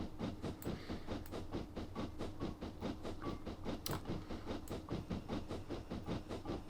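A train in the Train Simulator 2018 game rolls along with a steady rhythmic clickety-clack of wheels over rail joints, under a constant low rumble and occasional brief hissy bursts, loud and continuous with no talking.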